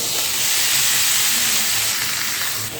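A loud, even hiss of boiled jackfruit frying in oil, steady throughout with no voices.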